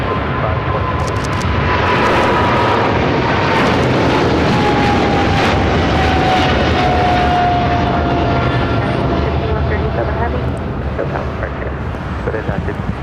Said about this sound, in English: This is China Airlines Cargo 5137 taking off to Taipei on a 777 freighter.